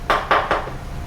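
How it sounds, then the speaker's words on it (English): Three quick scraping strokes of a utensil against the side of a bowl while pushing down sticky no-knead bread dough, each a short, close rasp with a brief pause between. "I'm also going to scrape it off more on the side of this so we can get a good seal"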